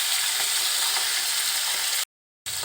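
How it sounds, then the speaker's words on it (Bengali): Rohu fish frying in hot oil in a kadai, a dense, even sizzle close up that runs steadily, cuts out briefly near the end, then resumes. "মাছগুলো আমি ওই পাশটাও খুব সুন্দরভাবে ভেজে নিব।"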